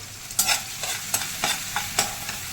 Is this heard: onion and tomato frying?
yes